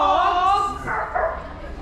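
Barking dogs used as a sound effect in a stage drama at an annual school function play out as a run of close, loud yaps and whimpering barks across the clip, with voices overlapping them.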